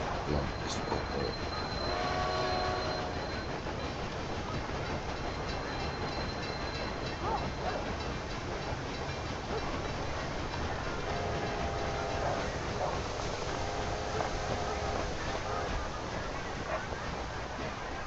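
Trains running in the video game Railway Empire 2, a continuous rolling rail rumble with occasional faint wheel squeals and tonal horn-like notes, moderately quiet throughout.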